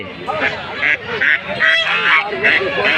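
Domestic ducks quack and honk repeatedly in a busy chorus close by, with voices faintly mixed into the noisy bustle of a rural market in Naogaon, Bangladesh.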